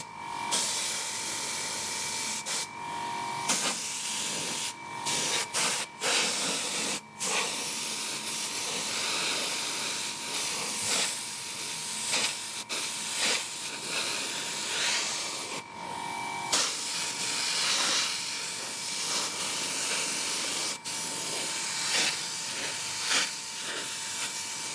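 Airbrush spraying paint onto a haunted dollhouse model, a continuous soft hiss broken by brief stops and restarts as the trigger is released, close and steady, no talking.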